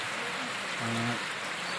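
Rain falls in a steady, even hiss, with a faint hum and brief murmuring tones briefly surfacing in the middle.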